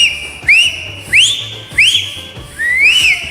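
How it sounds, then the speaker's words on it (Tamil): A studio audience at a Tamil Deepavali television show whistles loudly in four sharp, rising whistle blasts, evenly spaced and close, with no talking. "பெர்ஃபார்மன்ஸ் எப்படி இருந்துச்சு அப்படிங்கறத நீங்களே விசில் அடிச்சு காட்டுங்க பாப்போம்."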